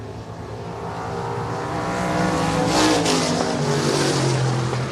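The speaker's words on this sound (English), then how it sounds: "put on a show those IMCA stock cars do every time they pull on the dirt track" IMCA stock cars race on the dirt oval at Shelby County Speedway, a loud blended roar of several engines swelling as they pass, with a brief tire scrub near the peak.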